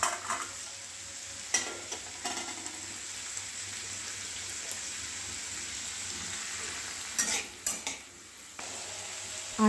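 Radish greens with radish pieces and stalks cook in a pan, with a soft continuous sizzle broken by a few clattering stirs and utensil knocks against the pan, close and moderately quiet.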